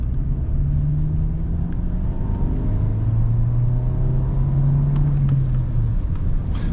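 Volkswagen Passat pulling uphill along a rural village road, a steady close engine drone with low tonal hum rising and holding under load, broad road rumble throughout, no talking.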